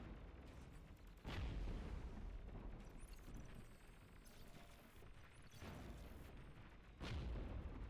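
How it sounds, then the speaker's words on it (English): Repeated deep, rumbling explosions boom in a noisy video game battle scene, several heavy blasts landing a few seconds apart over constant rumble. "Massive explosions here."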